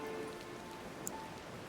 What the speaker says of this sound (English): The wind drives the rain at an angle so sharp as to almost be sideways.